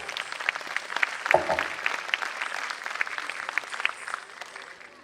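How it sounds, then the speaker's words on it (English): Parents applaud at a school annual day event ahead of a Bharatanatyam dance by kindergarten girls, a steady crowd clapping that holds for several seconds and fades slightly at the end. "So give a big round of applause, parents."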